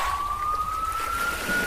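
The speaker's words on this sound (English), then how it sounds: "A loud warning siren echoes across the village." A loud warning siren wails steadily over a village ahead of a tsunami, a single rising tone sounding alone and close for the whole stretch.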